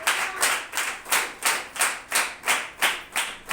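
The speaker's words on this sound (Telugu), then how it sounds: "చప్పట్లు కొట్టి ప్రభువుని గణపరచు" A church congregation at a Sunday service claps in unison, about eight evenly spaced loud claps in a steady rhythm with no speech.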